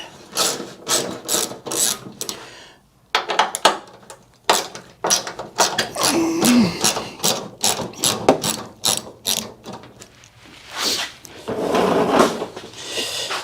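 A hand ratchet clicks rapidly in repeated close, loud bursts as bolts on a car's K-member are loosened, with short pauses between runs of clicking.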